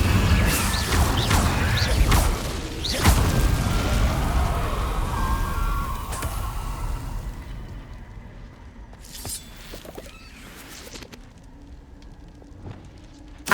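An Incendio fire spell is cast in Hogwarts Legacy, with a whooshing burst and crackling impacts up front, then fading rumbles and scattered knocks trailing off into quieter ambience, with no talk.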